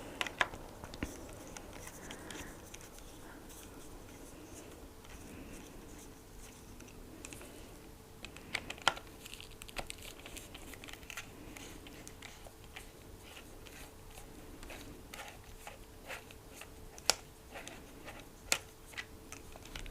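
A flathead screwdriver works the base plate screws on a Weatherby Vanguard rifle, giving sparse, faint metallic ticks and light scraping over a quiet background.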